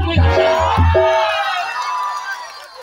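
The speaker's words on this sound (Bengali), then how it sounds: "মারো কুলকুলি হাততালি" A comic stage crowd cheers, ululates and claps, with two strong bursts of voices at the start, then a trailing swell of rising and falling calls that fades out.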